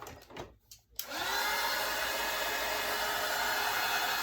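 A hair dryer switches on after a second of light handling noise and runs in a loud, steady close-up whoosh, drying chalk paint with no one talking.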